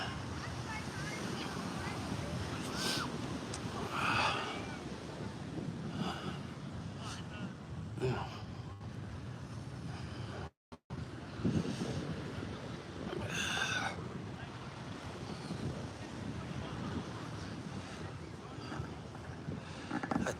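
Surf washing onto a beach near Santa Monica, a steady broad roar with wind buffeting the microphone throughout, broken by a brief dropout midway, while people talk over it.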